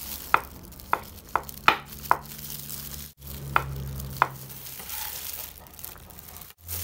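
A knife taps sharply on a cutting board about seven times at an uneven pace, slicing crab sticks into strips, over a low background hum.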